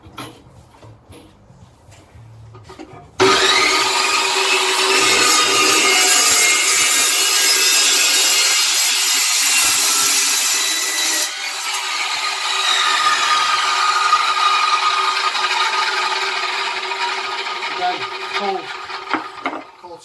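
An Evolution Rage 2 saw cuts through clamped round stock with a loud, continuous grinding rasp that starts abruptly after a few seconds of quiet handling noise, close by and steady until the end.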